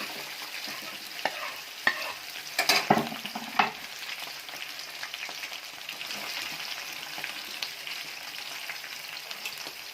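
Cut potato goes into chillies frying in oil in a pan for sabudana khichdi, then is stirred: a soft continuous sizzle with a few clattering knocks and scrapes of the spoon, close and fairly quiet, no talking.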